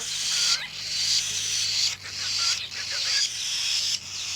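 A cockatiel makes repeated high chirps and warbling calls in short bursts, broken by brief pauses, close and fairly clear against a quiet room with a low hum beneath.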